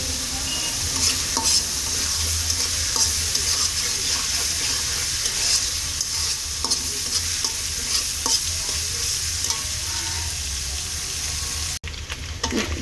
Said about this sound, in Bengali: এইভাবে রান্না করে চিকেনটাকে লাল লাল করে ভেজে নিয়েছি